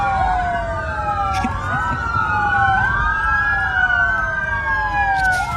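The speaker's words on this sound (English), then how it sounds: "You hear the motorcade" A motorcade passes with police sirens wailing and yelping, several overlapping tones rising and falling over steady traffic rumble, loud and close throughout.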